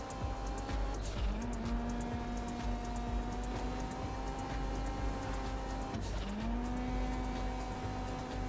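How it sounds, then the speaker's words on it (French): A car in GTA V Online drifts through Los Santos, its engine droning loudly while tires squeal in two long rising whines, the second starting around six seconds in. "Il était très beau le drift."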